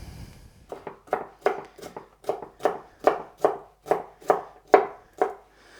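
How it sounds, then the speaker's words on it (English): Knife chopping bell peppers finely on a board: about a dozen crisp, evenly spaced cuts in a steady rhythm, close and clear, with no talking. "And this I will cut a little bit finer as well."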